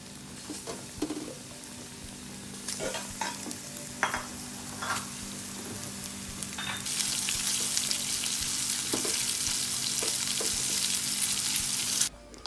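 Food frying in hot oil in a pan in a home kitchen, a steady close sizzle with scattered clinks and stirring, which swells into a louder, fuller crackle partway through, no talk.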